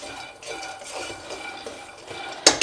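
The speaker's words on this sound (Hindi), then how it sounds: "देखिए मेरा ऑलमोस्ट मूंगफली भून गया है।" Peanuts roasting in a pan and stirred with a utensil, with soft scraping and rustling through the whole clip and a sharp metallic clink near the end.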